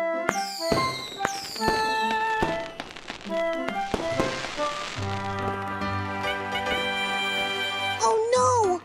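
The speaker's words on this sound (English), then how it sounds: "Oh no! I'm missing the fireworks!" Cartoon fireworks for a Lunar New Year celebration pop and crackle in a string of bright bursts, followed by a sustained musical tone and a rising whistle near the end, all fairly loud with no talking.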